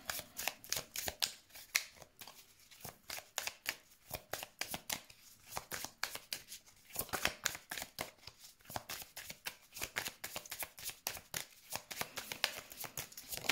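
A deck of cards is shuffled close up again and again, a rapid, crisp riffling patter that runs in quick bursts with brief pauses, alone and fairly quiet.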